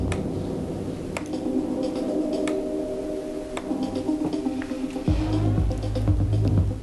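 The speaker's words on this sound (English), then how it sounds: "If I turn it towards the left, I get more of the bass." Music plays through a DJ mixer's sound color effect; after steady ticking beats, the knob turns left and a heavy low bass swells in for the final seconds.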